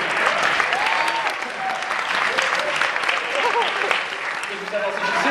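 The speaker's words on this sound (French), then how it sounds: "Fait une bonne main d'applaudissement pour les 5 participants qui vont participer aujourd'hui au show." Audience applauding five participants at a Cégep en spectacle show, a steady dense wash of clapping from a crowd that holds for the whole stretch, with faint voices and whoops threaded through.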